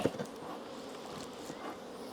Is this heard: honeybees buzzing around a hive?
yes